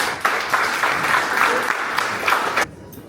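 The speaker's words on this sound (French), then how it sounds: "on peut faire un tonnerre d'applaudissements pour l'équipe de Romain Mayol" Audience at a live event breaks into a burst of applause, dense clapping with a murmur of crowd voices, cutting off sharply near the end.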